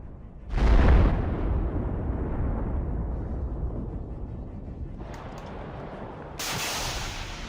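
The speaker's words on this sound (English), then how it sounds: "the Russians noticed the approaching Bradley and launched a Kornet missile" A Kornet missile strikes a Bradley APC with a sudden loud blast that fades into a long rumbling decay, and a second sharper burst comes near the end.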